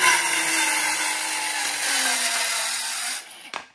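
A Milwaukee M12 Fuel compact circular saw cross-cuts 3/4-inch plywood, a loud, continuous whining rip that holds steady for about three seconds before the blade breaks through and spins down with a short clatter.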